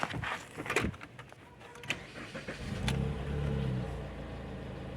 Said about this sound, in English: So I'll try and start it and see how it will run again.